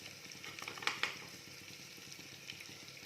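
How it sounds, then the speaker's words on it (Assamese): Onions fry in ghee in a pan for chole bhature, a quiet steady sizzle with a few soft clicks and stirring taps near the start. "এয়া পিঁয়াজখিনি অকণমান ৰঙা পৰালৈকে ভাজিম ধুনীয়াকৈ"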